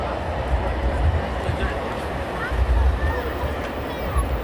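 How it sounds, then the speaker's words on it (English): Eurofighter Typhoon jet engines starting up at night at RAF Coningsby, a low rumbling drone with a rising whine, steady and moderately distant, while people talk over it. "And you can hear more engines are starting up now."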